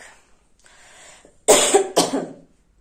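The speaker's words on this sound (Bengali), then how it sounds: "ভীষণ কাশি উঠছে মাঝে থেকে, খুশকি টাইপের কাশি, খুশখুশ কাশি টাইপের" Two sharp, dry coughs burst out close to the microphone after a quiet, faint stretch, then silence follows.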